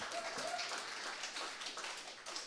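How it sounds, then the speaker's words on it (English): Audience applause at a lightning talks session, a steady wash of clapping from a crowd that stays even for the whole stretch, with no talk over it. "another round of applause for that"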